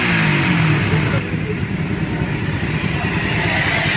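A tuned motorcycle engine, fitted with a Koso 30 carburetor, revs steadily and loudly at close range, holding a continuous rough mechanical drone throughout.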